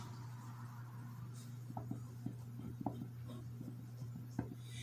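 Marker writing a label on a strip of tape stuck to a food bucket, faint scratchy strokes in short bursts over a steady low hum, close and quiet.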